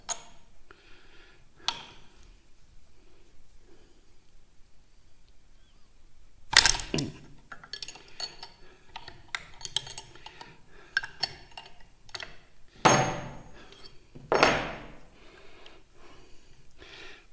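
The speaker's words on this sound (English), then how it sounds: "I loosen up the collet" End wrenches loosen the collet on a woodworking router, producing sharp metallic clanks and clicks at close range, scattered irregularly after a quiet opening with faint ticks.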